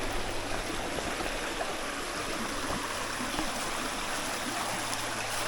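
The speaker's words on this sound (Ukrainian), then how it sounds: "тут є струмочок гірський, де можна собі поповнити запаси перед підйомом" A mountain stream rushes and burbles steadily nearby, a continuous watery hiss with no voices.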